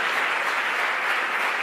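A church congregation applauds in a dense, steady burst of many hands clapping together, loud and continuous for the whole moment, with no voices over it.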